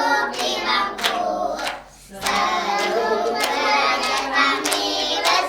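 A group of kindergarten children clap their hands together in rhythm at a preschool event, with bright, close, rapid claps that pause briefly midway and then resume just as busily.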